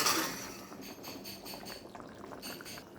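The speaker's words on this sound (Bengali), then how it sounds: "মাছগুলো দিয়ে কিছুক্ষণ ফুটিয়ে নেব।" Rohu fish curry with potato and pointed gourd simmering in a pot, rapid soft bubbling pulses repeating close up and fairly quiet, with no speech.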